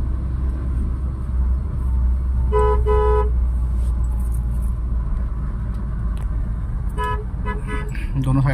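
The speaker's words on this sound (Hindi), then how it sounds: "लोग हैं उनको हॉर्न मार के फिर निकल रहे हैं वहां से।" Car horns honk in short toots, a pair early and several quick beeps near the end, heard over a loud, steady engine and traffic rumble from inside a car during a driving lesson.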